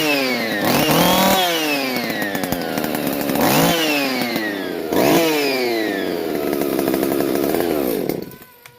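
A Husqvarna 45 chainsaw with a modified muffler runs loud and close, its engine revving up and down in several rising sweeps before cutting off abruptly near the end; no one talks.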